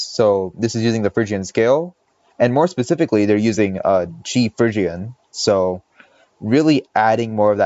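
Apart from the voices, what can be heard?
No distinct noise like a dog, phone or traffic.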